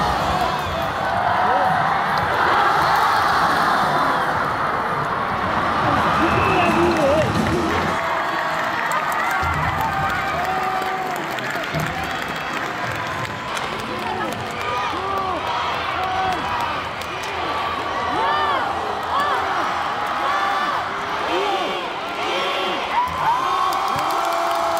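Loud crowd cheering and shouting fills an ice hockey arena during a Korea versus China game at Gangwon 2024, a continuous roar with whoops, children's shouts and scattered clapping.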